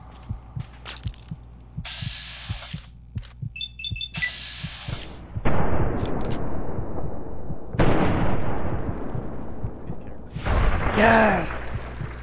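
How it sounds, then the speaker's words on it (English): Enemy gunfire in the Fallout 3 video game, with sharp repeated shots and bursts that thicken into loud sustained blasts, alarm-like beeps and a few chirping tones over a low hum, all close and loud. "Oh crap, okay, he's shooting me."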